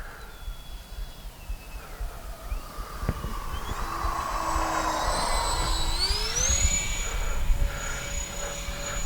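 A large X-Fly J-65 RC business jet runs down the runway, its turbine giving a steady high whine whose pitch rises and sweeps as it passes, with no voices over it.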